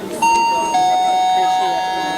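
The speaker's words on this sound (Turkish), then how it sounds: "Nereye basınca zil çaldı?" An electric bell wired into a simple school-made circuit at an education and science fair rings in a steady, loud, continuous buzzing tone for about two seconds, with a short break in pitch partway through, over faint background chatter.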